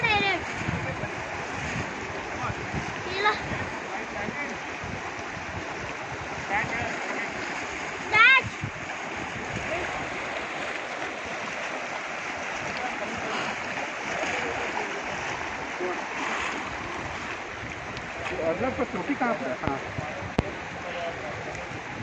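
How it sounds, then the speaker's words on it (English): A group wading across a freezing cold glacial stream near Kangyatse base camp in Ladakh, with steady rushing water and intermittent splashes throughout, people talking over the flow. "crossing the stream."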